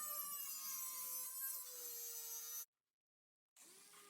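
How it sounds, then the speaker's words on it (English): A Dremel rotary tool grinds down screw tips poking through a wooden flower box planter, a steady high-pitched whine that cuts out for about a second, then starts up again. "I'm going to get rid of any screws that are peeking through with the Dremel tool"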